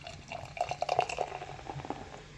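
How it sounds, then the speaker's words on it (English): Beer poured from a bottle into a glass, a short run of gurgling glugs and liquid splashing at close range, with faint background noise and no talk. "Nice pour"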